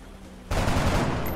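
Gunfire in the video game XCOM: Enemy Within, a sudden loud burst that starts abruptly after near silence and holds as a dense, sustained blast.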